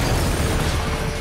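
Explosions roar in the Just Cause 3 video game, dense continuous booming and rumbling with heavy low-end crackle, loud and sustained throughout.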